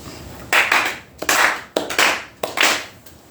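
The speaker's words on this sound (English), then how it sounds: "4 solemn claps." Four slow, solemn hand claps at an autumn memorial service, each sharp and evenly spaced, some with a faint doubled edge, ringing briefly in a quiet room with no talk.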